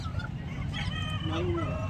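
Country chickens and roosters at a market in Nallapadu, Guntur, clucking and crowing close by over a steady busy background, with a rooster's crow rising near the end.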